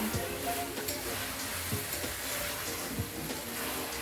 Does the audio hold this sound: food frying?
yes